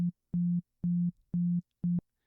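Five evenly spaced pulses of a pure low electronic sine tone, each about a quarter second long and separated by short silences, clean and loud like a telephone busy signal.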